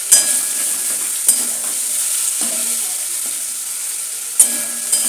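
Marinated chicken fries in oil in a pan with a steady, bright hiss and sizzle, punctuated by a few soft clinks of stirring, close and loud with no talk.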